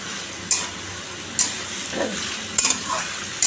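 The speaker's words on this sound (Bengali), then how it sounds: "এখন লাউ আলুর তরকারি করছি বসিয়ে দিয়েছি আমি" Bottle gourd and potato curry with green chilli and five-spice cooking in a pan, a steady sizzle broken by a few sharp clinks and scrapes of stirring, close up, with no talk.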